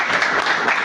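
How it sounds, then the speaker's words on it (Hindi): Audience applause at a women's college welcome and felicitation ceremony, a steady dense wash of clapping filling the whole brief moment at moderate loudness. "बहुत जोरदार तालियां हो जाए।"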